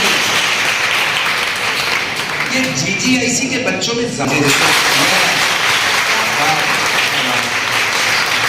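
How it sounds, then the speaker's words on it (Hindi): Crowd of schoolchildren clapping at a public event in Saifai, Uttar Pradesh: loud, continuous applause that briefly dips while someone speaks over it, then swells back to full strength. "अपने लिए जोरदार ताली बजाइए"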